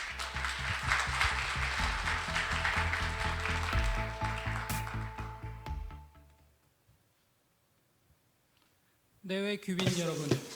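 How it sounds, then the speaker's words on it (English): An audience at a security forum breaks into sustained applause welcoming a deputy minister, the clapping dense and loud for about six seconds before fading to near silence, then a voice starts speaking near the end. "please welcome him with a big round of applause"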